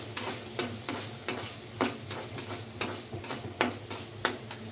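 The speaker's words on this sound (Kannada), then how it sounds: "ಟೊಮೊಟೊ ಚೆನ್ನಾಗಿ ಫ್ರೈ ಆಗ್ತಾ ಇದೆ" Chopped tomato frying in a pan hisses softly under a regular beat of about a dozen sharp spatula scrapes, close and clear, with no talking.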